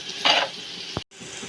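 Onion egg kurma stirred in a frying pan: a close sizzle runs throughout, with a loud scraping stir early on and a single sharp knock of the utensil against the pan just before a brief drop-out.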